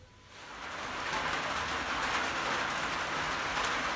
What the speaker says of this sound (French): Bon bah ce matin il pleut hein.